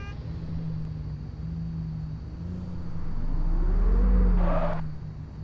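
A car in the game Valet Simulator pulls away with a rising engine rumble that swells to a peak near the end, over a steady low hum, with no talking.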